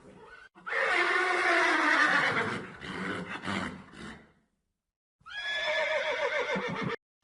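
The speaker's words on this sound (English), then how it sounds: "Horse. The horse is a domesticated." A horse gives two loud, close whinnies. The first is long and wavering and trails off into snorting, and after a short silence a second shrill neigh follows.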